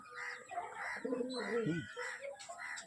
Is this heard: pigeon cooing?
yes